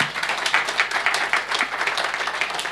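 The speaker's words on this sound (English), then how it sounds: "I would like to ask the audience to give my panel a great hand of applause" An audience at a conference panel on the Belt and Road Initiative and a new world order claps in steady, sustained applause, a dense patter of many hands filling the room.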